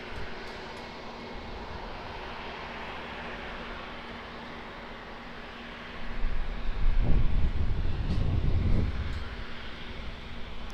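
An ATR 72 turboprop on short final at Auckland Airport, a distant drone that swells to a louder rumbling roar midway and then eases off, heard alone without voices.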